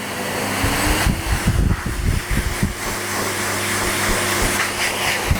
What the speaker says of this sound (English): Once you feel that your dog is more confident with the sound of the dryer, then you can just slowly turn it up.